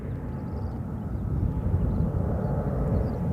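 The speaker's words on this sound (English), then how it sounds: "The Air Peace 777 heading off to Lagos" An Air Peace Boeing 777-300 jet departs Gatwick toward Lagos, producing a steady, distant low engine roar that swells slightly as it goes.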